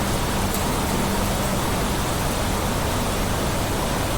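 Steady rain falls in The Planet Crafter video game, a dense, even hiss that fills the whole stretch without pause, heard alone and fairly loud.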